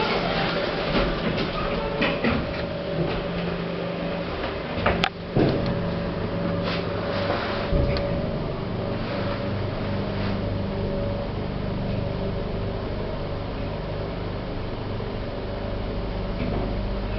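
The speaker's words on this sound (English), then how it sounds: "the lifts here are some old Benny lifts which have been horribly modernised" An old Benny hospital lift that has been modernised hums and rumbles steadily as it travels, with a low droning motor tone, a sharp click partway through and a few knocks, no voices.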